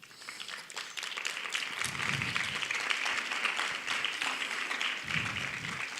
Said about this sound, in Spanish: ¿Por qué no le das un aplauso a tus papás?